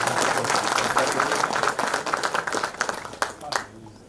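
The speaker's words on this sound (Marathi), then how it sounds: "सरांसाठी आपण जोरदार टाळ्या वाजवू" An audience at a farewell ceremony for a university registrar applauds loudly, a dense wash of hand claps that holds steady before thinning out near the end.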